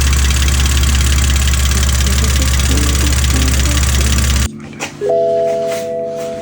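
A BMW E61 engine running during a test, a steady loud drone with a knocking undertone that cuts off abruptly partway through, leaving quieter sounds and a faint tone afterward.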